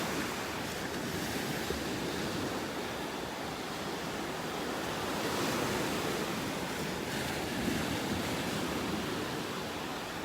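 Ocean waves wash continuously onto a beach in North Naples, Florida, a dense, steady surf roar with wind across the microphone and no voices.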